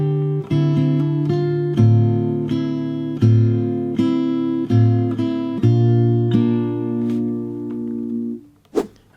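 Fingerstyle acoustic guitar plays the verse of a song, with evenly spaced plucked bass notes and ringing chord tones over about nine seconds, close and clear, ending with a quick handling thump.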